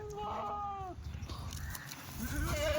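A Kathiawari dairy goat gives a couple of wavering bleats close by, followed by a shorter call near the end, with faint talk in the background.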